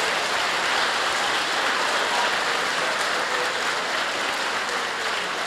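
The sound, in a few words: applause in church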